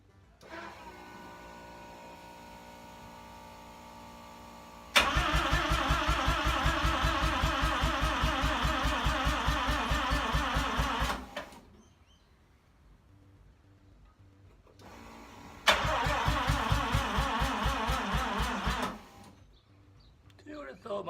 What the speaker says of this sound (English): failed my first attempt at trying to start it and it wouldn't start